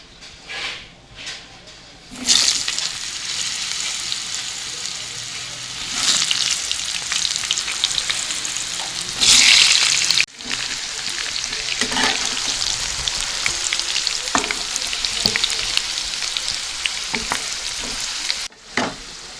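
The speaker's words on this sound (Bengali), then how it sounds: "এবার আমি কেটে রাখা আলুগুলো ভেজে নিচ্ছি।" Cut potatoes fry in hot oil previously used for frying crab, a loud, close, continuous sizzle with bursts that swell and fade as the pieces are stirred and turned, and brief clatters along the way.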